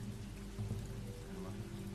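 Steady rain falls throughout a scene in The Walking Dead Season 2 video game, a soft, even patter of drops with a low hum beneath it, moderately quiet and with no talking.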